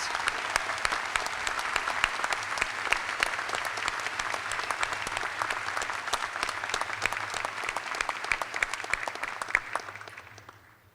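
Sustained applause from a large audience at a fall university commencement ceremony for the University of Arkansas Fort Smith, steady dense clapping that runs about ten seconds before tapering off, with no speech over it.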